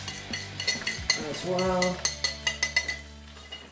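Garlic is scraped from a board into a pan with a short scrape, followed by a run of quick metallic clinks and taps from a utensil on the pan, close by, with a brief spoken remark near the start.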